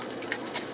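Galunggong fish frying in hot oil, a steady close crackling sizzle with brief louder pops, no voices.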